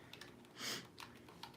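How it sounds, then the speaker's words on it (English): Computer keyboard typing, a few quiet scattered key clicks, close and faint, with no talking. "me typing and trying to talk?"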